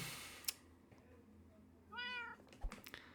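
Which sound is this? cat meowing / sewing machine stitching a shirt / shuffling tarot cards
cat meowing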